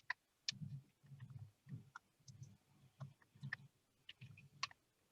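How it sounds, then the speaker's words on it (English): Computer keyboard typing during a virtual lunch call, a rapid irregular run of close, light key clicks and taps with short pauses, with no talking over it. "I'm typing it right now."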